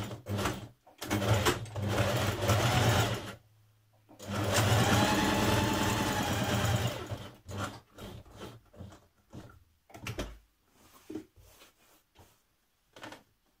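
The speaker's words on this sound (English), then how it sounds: "Now stitch your pocket in place, working on the very edge." A sewing machine stitches a pocket in place along its very edge, running in a long steady whirring burst, then a second sustained run, followed by short stop-start stitching bursts with quiet gaps between.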